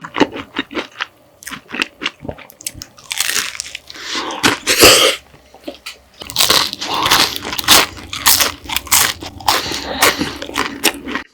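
Crisp fish-shaped bungeoppang pastries with red bean, custard cream and kimchi fillings are bitten and chewed up close, giving loud crackly crunches in irregular bursts with quieter chewing between them.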